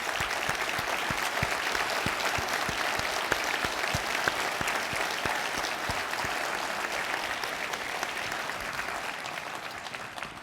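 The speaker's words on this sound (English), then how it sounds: "I'd like you all to stand up really quick for a quick round of applause" Standing audience at an airports industry event gives a sustained round of applause for the airport team, a thick, continuous patter of many hands that fades slightly toward the end.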